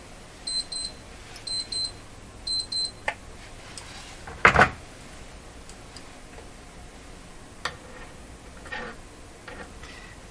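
An electronic alarm clock beeps in short bursts of rapid chirps, three groups early on, followed by clicks and a louder clunk while working on a Canadian Westinghouse Model 512 tube radio, with no talk.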